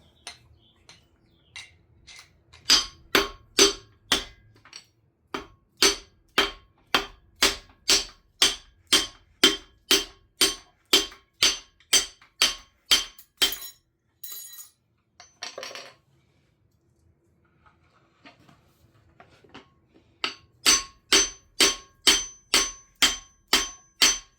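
Hammer blows drive a stuck piston out of a diesel engine cylinder during a teardown. Sharp metallic strikes come in rapid rhythmic runs of a dozen or more, near and loud, broken by short pauses and a brief scrape.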